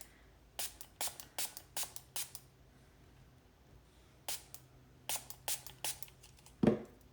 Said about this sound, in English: So I'm just spraying this so I get some nice drips going on.